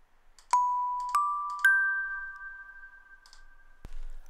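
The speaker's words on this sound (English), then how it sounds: "I'm gonna choose something that sounds like a bell" Bell-like synth patch in Studio One: three bright chimed notes struck about half a second apart, each ringing on as a sustained tone, then cut off abruptly followed by a low thump, with no voices.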